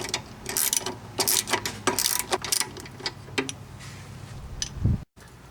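A ratchet with a 13 mm socket snugs the bolts of a trailer hitch on a 2012 Honda Foreman ATV, giving quick close rattling clicks in uneven bursts that fade and then stop.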